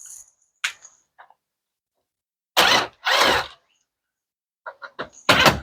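A power drill working screws loose on a Frigidaire Flair range being restored, a few short loud whirring bursts separated by silence, with small clicks and taps between them.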